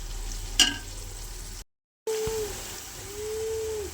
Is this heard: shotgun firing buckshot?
no